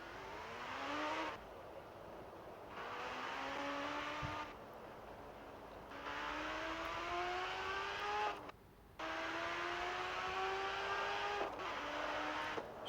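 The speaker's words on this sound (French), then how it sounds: "les voitures à lingots comme ça, il y a toujours le petit turbo" Engine of a turbocharged car in a video game, revving through repeated gear changes with a rising whine and whistle on each pull, then brief drops between shifts; fairly faint and steady, with no talking.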